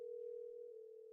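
A telephone tone hums alone as one faint, steady, continuous pitch that lasts the whole moment without a break.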